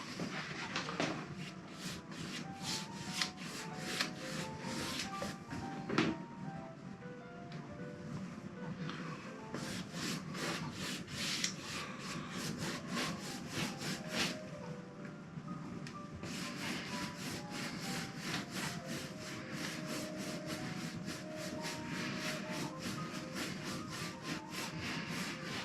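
A paintbrush lays an even black glaze mixed from blue and brown over a Caravaggio reproduction painting, a soft continuous rubbing and scrubbing close by, steady strokes with no speech.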